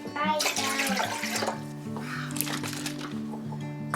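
Filtered water pours into a large canning bowl holding lemon juice in a home kitchen, a steady splashing stream close by that runs throughout with a voice talking over it.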